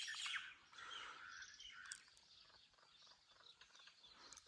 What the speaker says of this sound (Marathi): पक्ष्यांचा आवाज ऐकाय बघा तुम्ही.